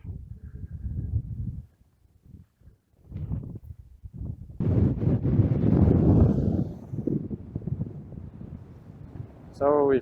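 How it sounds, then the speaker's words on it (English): Strong wind gusting across an open mountainside in the Mount Hare foothills near the Dempster Highway, roaring as buffeting microphone noise in uneven bursts, loudest midway through, with a person talking at times. "And it's incredibly windy."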